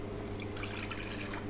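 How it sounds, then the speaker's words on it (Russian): About half a glass of water poured into a cast-iron pot for steaming turnips, a faint, steady trickle and drip running close by with no other sound. "Поэтому добавляем воды немножко."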